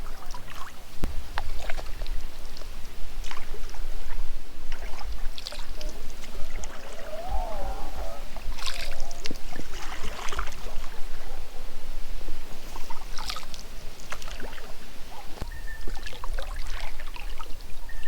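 Gentle water laps and trickles close by against a small boat, with soft irregular splashes and light outdoor ambience, no talking.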